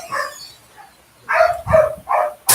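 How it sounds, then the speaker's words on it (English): Several pet dogs bark in short, loud bursts close by at home, excited as someone arrives, with a few quieter yips between the louder barks. "We were just listening to the dogs barking."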